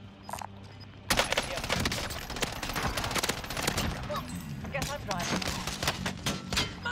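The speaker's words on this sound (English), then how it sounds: "You're getting shot at" Gunfire in a video game: a sustained barrage of rapid automatic shots and scattered single cracks, bursting in suddenly and continuing steadily, with players talking over it.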